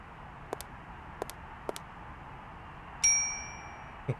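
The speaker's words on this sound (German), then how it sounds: "hier immer wieder auf die Klingel hauen, ne?" A desk bell rung in the Syberia video game gives a single bright, sustained ding that rings out and fades, preceded by a few faint soft clicks.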